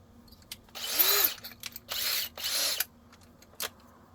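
A Ridgid power drill with a square drive bit drives screws in three loud bursts of whirring, with quieter clicks and handling noise in between.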